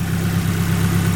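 A Japanese car engine idles steadily, its loud, even low rumble close by and unbroken for the whole moment.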